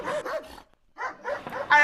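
A wild dog barking in a short burst of sharp, close barks and yips, pausing briefly before resuming, used as a sound effect in a spoken African bedtime story.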